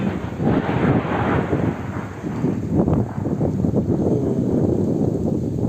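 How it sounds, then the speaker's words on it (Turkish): Heavy downpour with gusting wind beneath a pine tree on a cold, stormy night, a dense steady roar of rain and buffeting wind noise close to the microphone. "Çünkü bayağı sağanak yağmur yağıyor."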